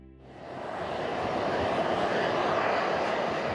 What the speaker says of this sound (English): When I saw the plane come in, my heart just began to explode.